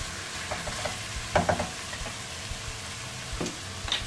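A spoon stirs a chilli con carne mixture in a pan over a low sizzle, with scattered scraping knocks against the pan and no talk.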